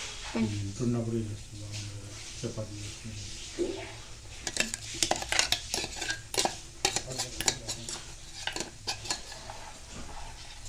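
Spices such as coriander powder and turmeric are stirred into a capsicum masala curry, with a spoon scraping and clinking against the pot in quick irregular strokes, and a voice talking over the early part.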